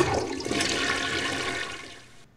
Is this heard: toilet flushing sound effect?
yes